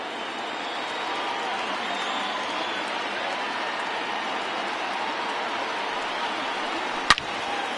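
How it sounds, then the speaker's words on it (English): A small crowd at a simulated baseball game between the Phillies and Marlins cheers and applauds continuously at a steady level, with one sharp crack near the end. "Now this small but vocal crowd come to their feet."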